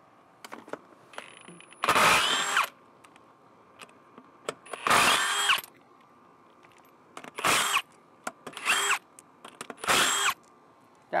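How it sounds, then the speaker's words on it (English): Ryobi and Ridgid impact wrenches, one 3/8 inch and one 1/2 inch, run in five loud bursts of about a second each on trailer hubs while a steady faint hum fills the pauses. "I've got two impact wrenches I'm gonna try, Ryobi and Ridgid."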